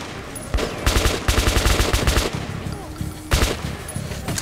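Rapid automatic gunfire in the video game Metro Last Light Redux, several loud bursts of sharp shots with short gaps between them, close and dominant.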